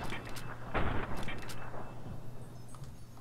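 Short, muffled gunshots go off in VATS targeting mode in Fallout: New Vegas, a few quick bursts clustered early, then fading to a quieter game background.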